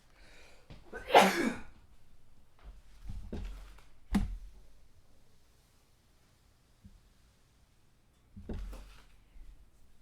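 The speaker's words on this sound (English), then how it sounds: "Oh, I'm gonna sneeze." A single sharp sneeze bursts out close by near the start, followed by a few soft knocks and handling thuds in a quiet indoor room, with a faint breathy sound near the end.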